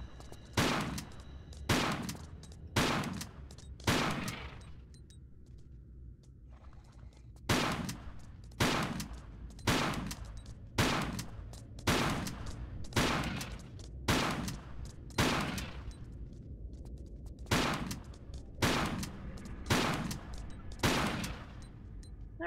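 Repeated shotgun blasts in a video game with an underwater maze puzzle, a dozen or more loud, sharp booms in uneven bursts of two to four, with a short pause near the middle and no talk.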